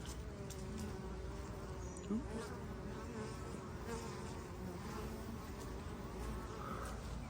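Bees buzz steadily around a painted homestead beehive, a close, continuous droning hum with the occasional louder insect passing near.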